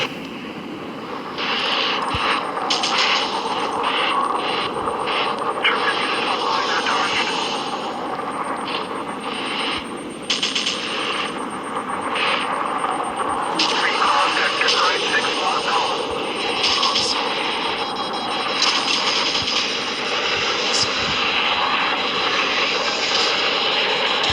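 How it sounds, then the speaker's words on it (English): Jet fighter engines roar continuously in a Modern War Planes aerial combat game, with bursts of missile launches and explosions flaring over the drone, and a player talking over the action. "Everyone shooting missiles on me."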